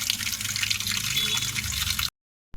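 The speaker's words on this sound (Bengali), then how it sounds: "এবার আমি কলতলা নিয়ে এসেছি, ধোবো, সব এক এক করে ধোবো।" Tap water runs at an outdoor washing spot while cut hilsa fish pieces are rinsed, a close steady splash for about two seconds before stopping abruptly.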